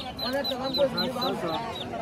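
Ducks at a rural market quack in a close, busy chorus of repeated nasal calls with a few overlapping honks, and a person speaks faintly beneath them.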